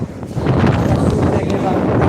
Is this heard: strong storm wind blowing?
yes